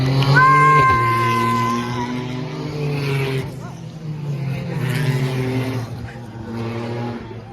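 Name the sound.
race cars passing at GP Explorer race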